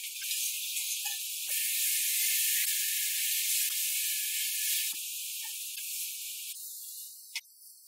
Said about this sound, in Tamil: தக்காளி வெந்ததும் மசாலாவில் ஊற வச்ச எறாவை போட்டு 2 நிமிஷம் கிளறணும்